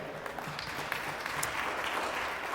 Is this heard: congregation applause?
yes